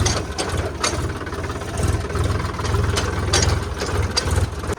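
A tractor engine chugs at idle on a farm, brought in to thresh mung bean plants, with a steady low rumble and faint mechanical rattling, running on without pause.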